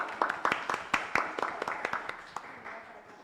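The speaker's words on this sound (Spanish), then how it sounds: "con su aplauso, creo" A small audience at a conference gives brief, scattered applause: a few distinct hand claps that thin out and fade within three seconds, with faint voices underneath.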